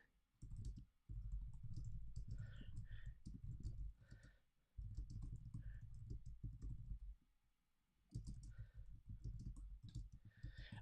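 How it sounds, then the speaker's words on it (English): Fingers tap quickly on a computer keyboard in three bursts of rapid, close clicking separated by brief pauses, with no voices. "I'll just type this in the chat."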